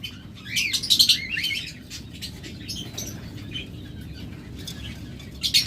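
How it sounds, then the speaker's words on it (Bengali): Yellow collar lovebirds chirp in short, high bursts over a busy rustling background of other birds and fluttering, with louder clusters of calls near the start and the end. "চমৎকার পেয়ার দেখুন ইয়েলো কলার লাভবাট"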